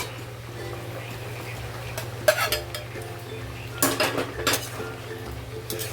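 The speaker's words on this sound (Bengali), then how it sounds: "পনিরটা অ্যাড করে ভালো করে মিক্স করে দেবো" A utensil scrapes and clinks against a pot while paneer pulao is stirred, in two short bursts of clattering over a quiet background hum.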